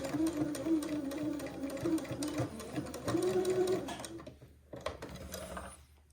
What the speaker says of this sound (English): So I'm just going to go forward and backward a few stitches at the bottom of the placket.